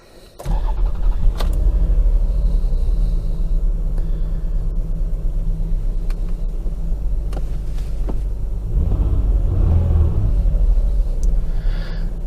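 A 2000 Toyota Estima Aeras L MCR40W with a V6 and all-wheel drive cranks briefly and catches, then settles into a steady, close, even idle with a few faint clicks over the hum.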